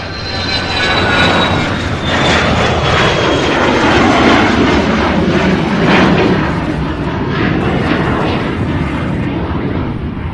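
A fixed-wing airplane takes off at SDF airport in Louisville, Kentucky, its engine roar loud and sustained throughout with a broad rumble and rising whine, steady and unbroken.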